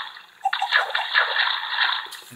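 Water splashes and sloshes steadily for about two seconds as a player swims in a Minecraft ocean, a broad wash of splashing with no voices.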